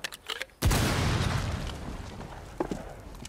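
A single sharp in-game gunshot from a toy weapon in Rainbow Six Siege, loud and abrupt, followed by a long decaying rumble and a fainter pop near the end.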